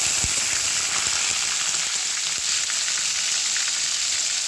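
Onion and tomato paste curry masala sizzles and fries steadily in a hot pan, a continuous bright crackle with no talking.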